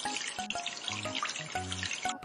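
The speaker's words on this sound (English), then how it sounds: "Time to wash them with water." Running water from a game's sink as dishes are rinsed in a house-cleaning game, a steady splashing hiss broken by short chiming musical notes, with no talking.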